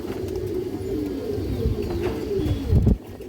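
A female pigeon coos steadily in low, throaty rolls, close by, over a faint background hum.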